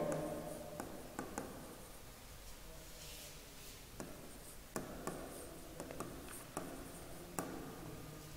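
Chalk or marker scratching on a board during a physics lecture on the reflection of light, with irregular taps and strokes over a steady room hiss and no speech.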